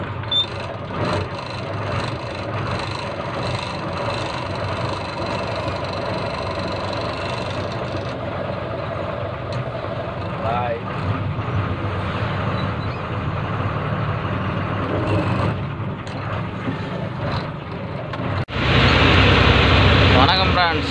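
A loaded lorry sets off from the yard toward a cement factory, its engine droning steadily with road and cab noise throughout, swelling into a louder, rougher rumble near the end as it pulls away; talk is heard over it.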